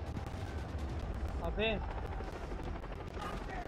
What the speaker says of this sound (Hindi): आसमान से गोली चला रहे हैं तो हेलीकॉप्टर से